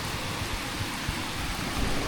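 Heavy rain pours down with a dense, constant hiss and low rumbling underneath, loud and even throughout with no talking.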